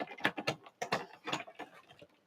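Stampin' Cut & Emboss die-cutting machine being hand-cranked, giving a quick run of close, uneven clicking and ratcheting ticks that tail off at the end.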